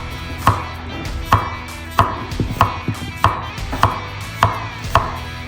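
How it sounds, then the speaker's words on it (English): A chef's knife slices through a zucchini on a board, giving about nine crisp, evenly spaced chopping strikes that ring close and clear with no talk. "we're taking the chef's knife again, and we're gonna put it up against this zucchini, cut it in half"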